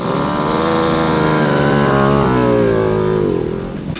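A car engine warming up on an old banger entered in the Złombol 2022 charity rally, running loud and close with a buzzy, motorcycle-like tone that rises slightly in pitch midway before easing back as it settles.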